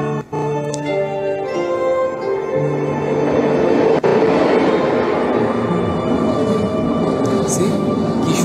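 A stock train sound effect laid over a cartoon scene: a steady rail rumble and clatter that swells and grows brighter over several seconds, with a voice talking over it.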